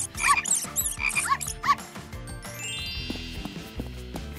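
A frog croaks in a quick run of bright, repeated calls at the start, then gives way to chiming background sounds.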